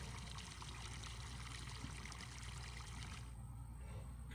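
Water pours steadily from an IBC tank in the Farming Simulator 22 video game, a continuous splashing trickle that holds even and close before thinning near the end.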